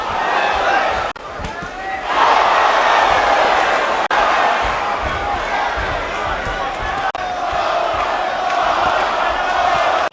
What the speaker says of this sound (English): the cheers of the crowd go out again